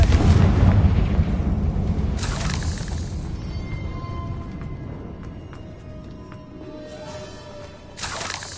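A Confringo blasting spell erupts in a video game with a heavy, rumbling boom that slowly decays, followed by a second crack and burst of debris near the end.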